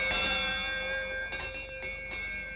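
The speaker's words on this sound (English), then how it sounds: "Especially if I ring the ship's bell a few times like this." A ship's bell on a boat offered for sale is struck a few times, bright sustained ringing tones repeating at close range with the strokes overlapping as each rings out.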